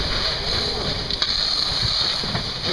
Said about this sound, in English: the water is cooling down the fuel packages, and the steam is getting all the air out of the room